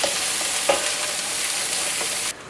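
Onions tossed into hot oil with mustard seeds and urad dal sizzle and fry steadily in a pan, a continuous close hiss with a few brief stirring scrapes, no voices.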